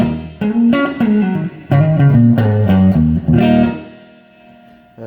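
A clean electric guitar on its stock S2 neck pickup plays chords and single notes with a warm tone and slight reverb, in short phrases that fade into a sustained final chord.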